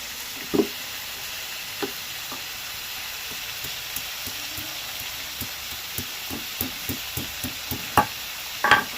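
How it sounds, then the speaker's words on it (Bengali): Vegetables and lentil dumplings frying in a pan make a faint, steady sizzle, broken by occasional soft clicks and stirring taps that grow more frequent toward the end. "সবজিগুলো ভালো করে ভাজা হয়ে গেছে"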